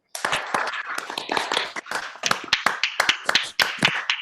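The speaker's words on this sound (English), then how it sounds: "if you could please unmute and start by really giving Dr. Frank the applause that he deserves" Scattered clapping from an online audience for Dr. Frank, a handful of unmuted participants producing uneven, distinct sharp claps close to the microphone rather than a blended crowd sound.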